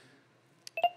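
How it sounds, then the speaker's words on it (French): Brief electronic phone beeps, a few short tones close together near the end of an otherwise quiet moment on a call. "ça, c'est mon téléphone qui fait des bip-bip."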